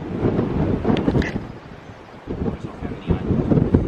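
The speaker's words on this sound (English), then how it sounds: "The wind keeps pushing me." Strong wind gusts on Martha's Vineyard buffet the microphone in loud, uneven rumbling surges that swell and fade over a few seconds.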